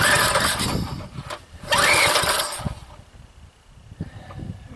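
An old rototiller engine that had seized, being pull-started repeatedly and trying to fire, giving short sputtering bursts of engine noise with rattles between the attempts.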